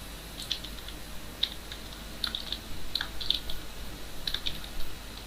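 Light, scattered keystrokes on a computer keyboard while code is entered, quiet clicky taps at an irregular pace over a faint background hiss.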